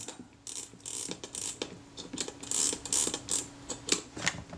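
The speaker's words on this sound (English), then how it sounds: "Let's try the advanced knob, see if that will turn things. Yeah, things are turning." The film advance knob of a Retina I type 010 camera being turned, its mechanism giving a run of quick, crisp ratcheting clicks close up, fairly quiet with no voice.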